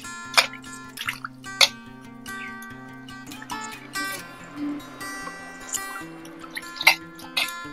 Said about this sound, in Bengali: তো এভাবে আমি ভালোভাবে আগে ঝিঙেগুলো ধুয়ে নেব।